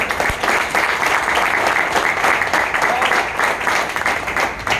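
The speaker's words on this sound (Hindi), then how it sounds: "मैं चाहूँगा गुरुजी के लिए एक जोरदार तालियां।" A crowd claps loudly and continuously, a dense, even wash of applause that holds steady from start to finish.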